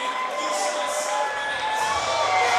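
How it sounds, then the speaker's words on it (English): A crowd at a combat-sports event cheering for a fighter's walkout, a dense, sustained roar of shouting and applause heard from within the venue, steady and loud throughout. "Listen to this crowd go crazy"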